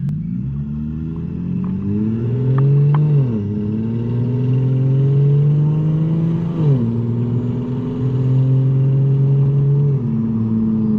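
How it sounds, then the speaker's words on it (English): A 1949 Ford body-swapped onto a BMW drones and rises in pitch, then drops sharply at each automatic rev-matched downshift, repeating several times. The steady, loud engine rumble is heard from inside. "you'll get to hear the nice rev match downshift that's done by the car"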